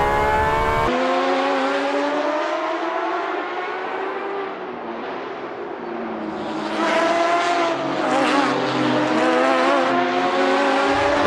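Porsche 911 RSR race cars in a video game racing at Spa, engines droning loud and steady with shifting pitch as they pass, revs rising toward the end alongside brief tire squeal.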